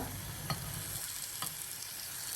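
Sweet ghee appam batter frying in ghee in a pan gives a steady, soft sizzle, with a couple of brief crackles rising above the continuous hiss.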